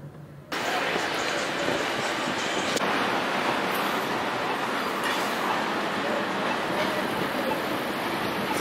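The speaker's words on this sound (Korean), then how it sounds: "트램 아니라, 케이블카인데, 저거 너무 타고 싶은 거예요" A cable car rolls along a warm city street, starting abruptly as a loud, continuous broadband rumble and rattle that runs steadily nearby.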